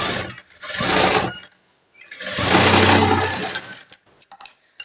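An electric sewing machine stitching a blouse hem, running in two whirring bursts, a short one then a longer, louder run, with brief clicks and handling noises in the pauses.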